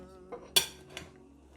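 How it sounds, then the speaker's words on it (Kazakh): Dishes clink as food is served into several bowls: three quiet, ringing knocks of utensils against tableware, the middle one sharpest, in an otherwise quiet room. "Бірнеше ыдысымызға салып аламыз."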